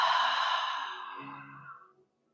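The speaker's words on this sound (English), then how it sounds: "exhale through the mouth." A long, breathy exhale through the mouth during a guided relaxation, starting strong and tapering off gradually over about two seconds before silence, with no talking.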